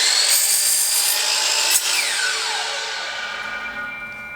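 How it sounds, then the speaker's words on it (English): A DeWalt DWS760 sliding miter saw blade spins at high speed, its loud whine dropping in pitch as it bites into and cuts through a wooden board, with no one talking. "bring your saw down, line up your cut"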